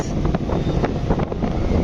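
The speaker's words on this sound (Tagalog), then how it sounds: "Malakas ang hangin." Strong wind buffets the microphone with gusty, roaring rumbles, loud and close, with a hint of water and boat noise beneath at a port.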